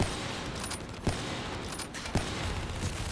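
Gunfire in the Call of Duty Black Ops 3 video game, a dense continuous fusillade of rapid shots with a few louder cracks standing out at roughly one-second intervals, loud and steady throughout.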